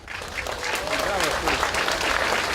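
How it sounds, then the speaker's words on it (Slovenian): An audience claps loudly and continuously at a ceremony marking the 65th anniversary of victory over fascism and Nazism. The applause is mixed with voices in the crowd, and a voice speaks over the clapping. "ona si zasluži en poseben aplavz"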